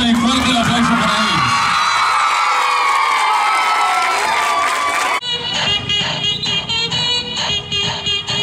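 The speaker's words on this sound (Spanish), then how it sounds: "Fuerte el aplauso para él." A crowd at a youth football school event cheers loudly and applauds a guest delivering five balls. Shouts and whoops swell over a busy din, which continues as rapid, rhythmic clapping and noise near the end.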